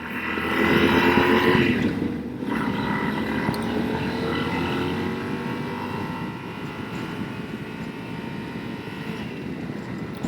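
A Yamaha Super Tenere motorcycle engine drones steadily under riding, a continuous loud hum with wind rush and vibration, fairly even throughout with a slight surge early on.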